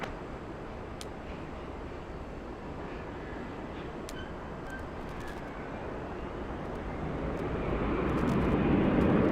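A Delta airliner taking off from runway 8 right at Atlanta's Hartsfield-Jackson airport, heard as a steady distant jet roar that slowly swells louder toward the end, with faint radio clicks over it.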